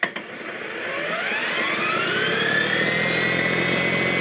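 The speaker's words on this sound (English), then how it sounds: "all you're hearing are the tines turning" An EGO battery-powered garden cultivator runs on turbo with its tines turning, a loud, close, steady mechanical whir that rises briefly at the start and then holds even, with no voices.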